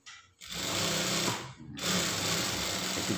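A sewing machine stitches fabric for school trousers, running in a loud continuous whirring chatter with a brief pause between two sustained bursts of stitching.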